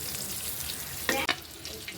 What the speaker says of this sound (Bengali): আর একটু পটল ভাজতেছি।